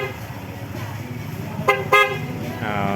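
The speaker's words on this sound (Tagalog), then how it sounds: "Busina mo." Two short, bright horn toots from a Honda PCX 160 scooter sound close by over a low engine hum, followed by a longer honk at the end.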